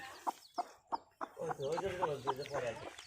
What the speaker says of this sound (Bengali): দেখতে পাচ্ছ মুরগিগুলা।